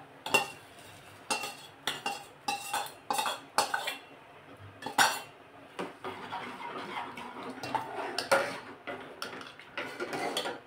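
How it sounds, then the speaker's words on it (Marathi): Soaked sabudana tipped into water in a pot for fasting papad, with a metal spoon repeatedly clinking and scraping against the pot in quick close taps. "आता हा भिजलेला साबुदाणा मी या पाण्यामध्ये टाकते"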